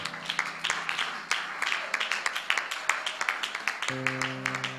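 A church congregation claps in a steady rhythmic beat, with voices cheering underneath and an organ or keyboard chord entering near the end.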